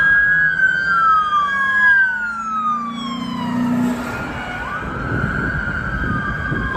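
A toy police car's electronic siren wails loud and close, its pitch sliding down then rising again in repeated sweeps, with a soft rumbling handling noise underneath near the end.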